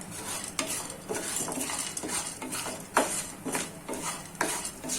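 Jamun seeds roast slowly in ghee in a pan, stirred with a metal spoon that scrapes and clinks repeatedly over a faint steady sizzle.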